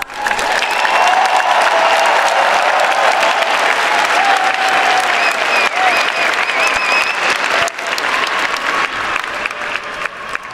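A round of applause at a university graduation ceremony, a large audience clapping steadily and loudly for graduates, with faint voices and cheers mixed in before fading slightly near the end.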